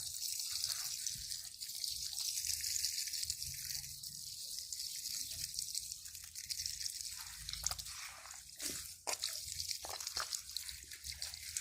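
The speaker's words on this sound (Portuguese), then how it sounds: "Vou aproveitar, pegar a mangueira aqui, pessoal. E tentar enxaguar aqui para" A garden hose spraying water to rinse the roots of a Cattleya orchid, a steady hissing gush with drips and splashes that shift as the stream moves, and no talking.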